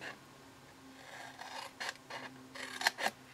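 Scissors cut into a cardboard box up to its score line, making quiet crisp snips and rasping scrapes in a few short strokes close to the listener.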